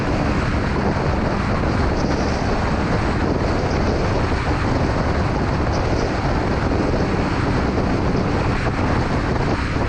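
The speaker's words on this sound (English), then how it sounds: "The single makes a beautiful sound, and I can see why the Indians really worship that dug dug dug noise" Exhaust of a 2018 Royal Enfield Classic 500 single-cylinder motorcycle cruising on a highway, a constant rumbling drone buried under heavy wind buffeting throughout, with no speech.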